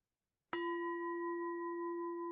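A single meditation bell is struck after a moment of silence and rings on with a clear, sustained, gently fading tone, soft and alone.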